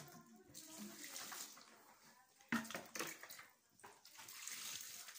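Lukewarm water running for bread dough in a village kitchen: a continuous close splashing and gushing flow with shifting intensity and a few sharper splashes, with a faint voice in the background.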